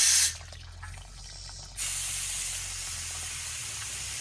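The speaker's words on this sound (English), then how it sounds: "Now it's going to push out the rest of the water." Water sprays in a steady hissing rush from the valve of a home well pressure tank as air pressure forces it out, beginning with a brief loud burst, easing to a lighter hiss, then settling into a continuous strong spray with no talk.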